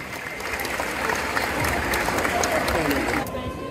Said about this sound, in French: Bravo à tous les cosplayers. Applaudissez-les bien fort